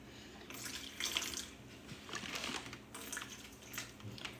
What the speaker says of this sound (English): And now I'm gonna add 375 grams of warm water